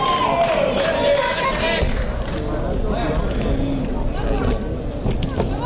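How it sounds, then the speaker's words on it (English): Crowd noise fills an arena at the 1983 AAU wrestling nationals, a loud continuous roar of spectators with shouts rising and falling and voices talking over it. "We're getting a lot of crowd now."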